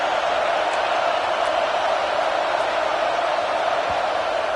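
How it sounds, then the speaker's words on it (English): A stadium crowd at an Alabama college football game roars in a dense, continuous wall of cheering that stays loud and unbroken throughout, with no distinct voices standing out. "It's early, but this crowd is fired up. Listen to this noise here."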